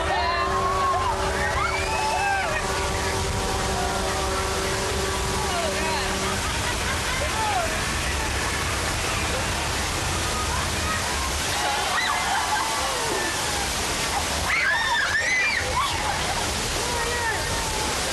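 A staged flash flood on a studio backlot tour at Disney World in 2002 sends rushing, sloshing water pouring down in a steady loud surge, with a few faint high tones drifting over it.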